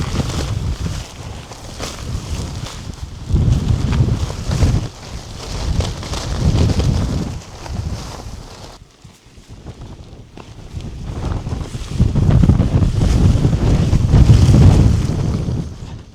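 Strong gusts batter a Nomad X-Lite four-season tent during a wind test outdoors, a loud, rough rushing that swells and fades in waves, with a brief lull midway before buffeting hard again.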